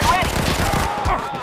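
Rapid gunfire from the mobile shooting game Sniper Fury fills the stretch, a dense burst of shots under game audio with a voice talking over it.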